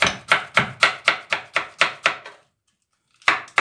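Sweet green pepper being chopped with a knife on a cutting board, with around nine quick, regular chops up close, a gap of silence, then two more cuts resuming.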